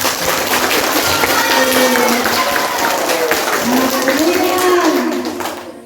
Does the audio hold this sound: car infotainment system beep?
no